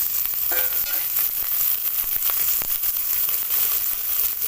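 Sliced ridge gourd added to a pan with lightly fried chopped onion, crackling in a continuous close sizzle with faint scraping and stirring running under it the whole time.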